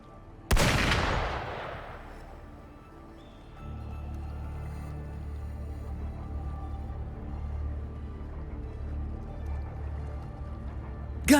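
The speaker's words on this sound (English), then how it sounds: "Gunfire! We've got intruders." A sharp, loud burst of gunfire in the video game Wuthering Waves, one broadband crack that decays over about two seconds, then a steady low rumble of ambient game sound until a second sharp hit at the end.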